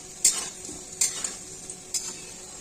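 Fried potatoes are lifted out of hot oil with a metal utensil, giving three sharp scraping clinks spaced about a second apart over a soft, steady sizzle of frying.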